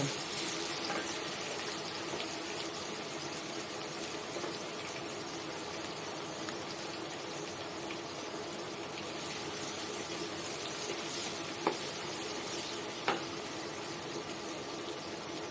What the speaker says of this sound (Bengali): এখন দিয়ে দিচ্ছি এক কাপ পরিমাণ পেঁয়াজ কুচি পেঁয়াজটাকে আমি একটু হালকা ব্রাউন কালার মতো করে ভেজে নেব